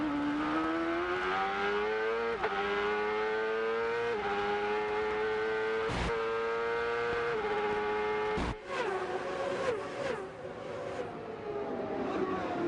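Onboard a race car at the 1997 Long Beach street race: a loud, continuous engine whine drops sharply under heavy braking into a turn, then climbs again through upshifts as the car accelerates away, with no talk.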